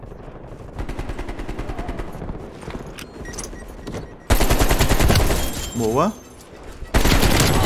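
Rapid automatic gunfire from Call of Duty Black Ops Cold War multiplayer, rattling bursts that start moderate then jump to loud, harsh volleys with a short break, while a player speaks briefly.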